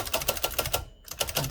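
Keys striking on a 1947-1949 Adler Favorit 2 thrust-action typewriter, a steady run of close, crisp clacks with a brief pause partway through before the typing resumes.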